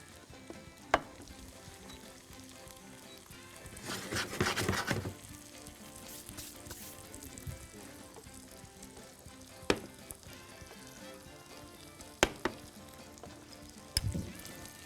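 Bacon sizzling and frying in a pan while a steak and bacon dish is being made, a steady crackle with a louder burst of spattering partway through and a few sharp clicks of utensils.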